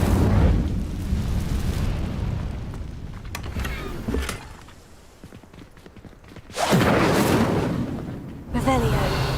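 In Hogwarts Legacy, an Incendio fire spell bursts with a loud, whooshing roar that fades, then flares again twice in strong rushes over a rumbling background, with a voice speaking.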